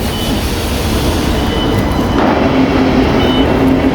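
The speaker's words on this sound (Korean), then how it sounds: "이게 제가 탄 기차입니다. 기차가 되게 힙하죠?" A train at Central Station in Brisbane, a loud close rumble of wheels and machinery with a brief metallic squeal and a soft repeated tone, steady throughout.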